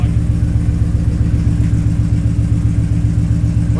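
Coyote-swapped Ford Mustang Fox Body V8 idling with a steady, loud, lumpy rumble close by, holding an even rhythm throughout.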